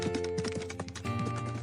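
In an animated story, a horse gallops off at a sprint: quick, regular clip-clop hoofbeats under a steady music bed.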